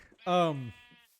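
A single sheep bleat from Minecraft, a loud wavering call with a clear harmonic tone lasting about half a second and tailing off, followed by faint quiet background.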